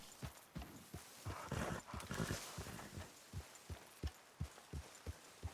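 Horse hooves clip-clop steadily in Red Dead Redemption 2, a regular walking rhythm of close, crisp knocks over faint ambient game background.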